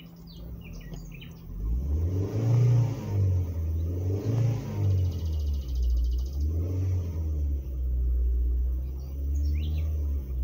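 A car engine revs several times in rising and falling surges after its catalytic converter was cleaned, loud and close, with birds chirping faintly in the background.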